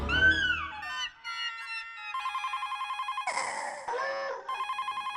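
A telephone rings in a Hindi comedy scene, heard as a steady trilling bell pattern of repeated bursts after a short musical sting, moderately loud with no talk over it.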